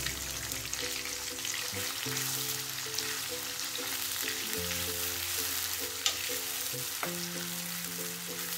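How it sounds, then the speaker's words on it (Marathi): Ground masala from the mixer fries in half a cup of oil in a kadhai while being stirred, giving a continuous close sizzle with occasional scrapes, under a steady melodic tone. "आता एका कढईमध्ये अर्धी वाटी तेल घेऊ व मिक्सर मधून काढलेला मसाला चांगला फिरवून घेऊ।"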